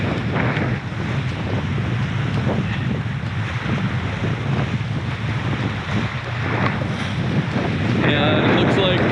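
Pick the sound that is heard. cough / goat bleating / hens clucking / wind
wind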